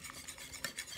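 Grated mozzarella and parmesan being stirred into waffle batter, with soft, faint scraping and clinks of a utensil against the bowl in short irregular strokes.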